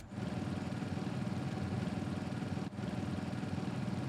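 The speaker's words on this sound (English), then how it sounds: "the rattling of the exhaust" Motorbike mount in Final Fantasy XIV idling steadily with a rattling exhaust, a low continuous chugging engine that is fairly quiet and has one brief dropout partway through.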